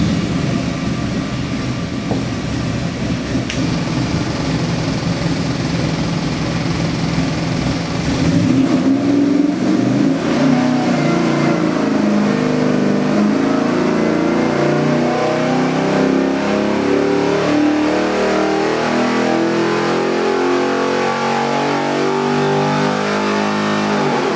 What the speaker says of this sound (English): I got a 72 Chevy C10 engine on the dyno here.